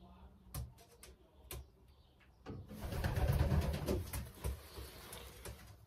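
Pigeons coo in a pigeon loft: soft, low, rolling coos under a busy background of shuffling and clatter, with a few sharp taps and knocks early on, fairly close but quiet overall.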